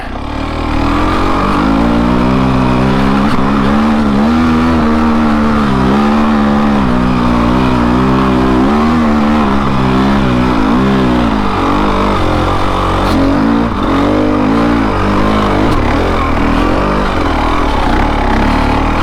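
A KTM TE300 dirt bike engine labors loudly and steadily at low revs in first gear, its pitch rising and dipping slightly as it climbs a trail, continuous and close throughout.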